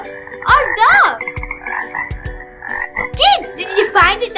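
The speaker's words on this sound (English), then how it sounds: "It's frog. The correct answer is frog." Frog croaking: loud, close, repeated throaty croaks and chirps in an irregular rhythm over a faint steady tone, with no voices.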